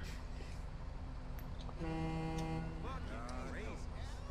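An Irizar i8 coach horn sounds in GTA V, one sustained, loud, steady honk over rumbling traffic noise. Other car horns then answer with shorter, wavering toots.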